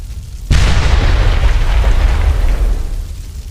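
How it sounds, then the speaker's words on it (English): A vehicle explodes in a Spider-Man film scene: a sudden loud boom hits after half a second, then a heavy rumbling roar sustains and slowly fades, with no talk. "The explosion of the vehicle took whatever strength Peter had left."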